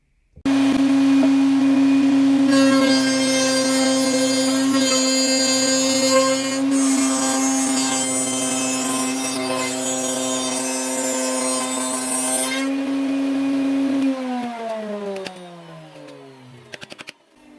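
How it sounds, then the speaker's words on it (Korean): A power tool whirs loudly and continuously as it cuts into a gold-plated metal part, holding a steady high whine for most of the stretch before winding down and trailing off near the end. "지금 이쪽 면이 어, 생각보다 상당히 부드럽게 깎이네요"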